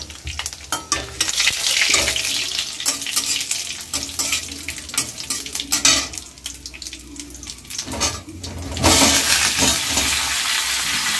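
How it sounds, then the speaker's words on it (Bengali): Bay leaves and whole dried chillies frying in hot oil in a pan, a loud, continuous crackling sizzle with intermittent stirring scrapes, close up. "তেজপাতা দিয়ে দিলাম, গোটা লঙ্কা দিয়ে দিলাম।"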